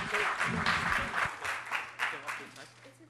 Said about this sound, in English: another round of applause for Abdullah